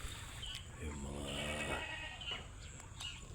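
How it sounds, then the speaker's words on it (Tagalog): A goat on a small farm with vegetable plots gives one wavering, nasal bleat near the middle, heard fairly close over soft background noise. "kambing naman po natin."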